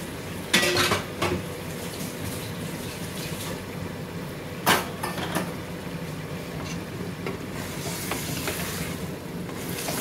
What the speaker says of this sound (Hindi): दाल को ना अच्छी तरह भूनना है